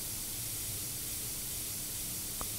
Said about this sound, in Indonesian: Semprot.